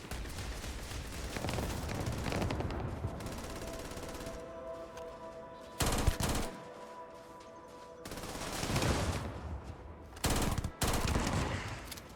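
Mass Effect-style sci-fi combat in Starfield: heavy automatic gunfire in several loud bursts separated by gaps, with a droning ambient hum between volleys.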